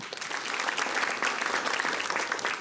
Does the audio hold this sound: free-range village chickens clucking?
no